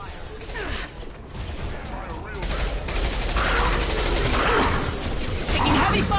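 Heavy automatic gunfire from a Mass Effect 2 firefight, dense rattling bursts that build louder over several seconds and run almost unbroken, with whooshes and impacts mixed in.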